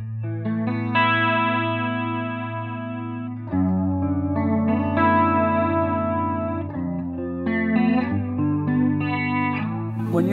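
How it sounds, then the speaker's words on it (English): Electric guitar through a PRS pedal with a chorus- and flanger-like swirl, sustained chords and held notes shimmering with wavering modulation, loud and close with no talk. "it sounds halfway between a Les Simulator, a chorus, and a flanger"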